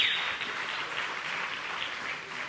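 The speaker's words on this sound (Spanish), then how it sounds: "Un aplauso, por favor" Applause from a church congregation at a tenth anniversary service, a brief, fairly faint wash of clapping that fades slightly but holds steady.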